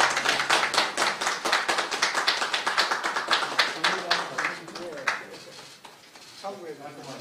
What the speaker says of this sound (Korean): 참석자분들께서는 박수를 부탁드립니다.